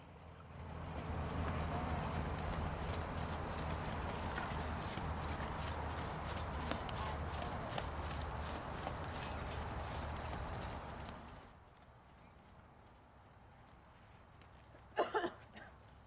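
A horse trots during an equine gait evaluation, its hooves clip-clopping in a steady, continuous rhythm for about eleven seconds before the sound drops away, leaving quieter background with a brief knock near the end.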